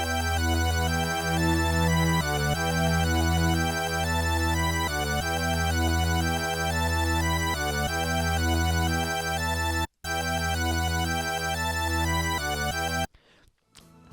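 Synthesized saw wave bass layered an octave up in FL Studio, a dense, buzzy sustained tone with pulsing rhythm, played loud and alone with a brief gap before it stops near the end.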